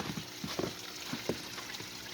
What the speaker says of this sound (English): I wanted to show you a little bit of the waterfall today.